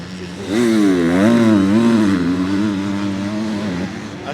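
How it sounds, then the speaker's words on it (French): Motocross race bike at an MXGP round in Agueda, Portugal, its engine screaming at high revs with a rising and falling pitch as it passes, loud and sustained for about four seconds without talk. "Écoutez la moto gueuler."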